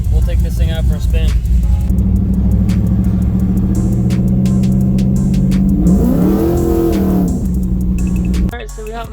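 An RC car's electric motor whines and hums steadily, rising in pitch as it speeds up, then cuts off abruptly near the end, with a person speaking over it.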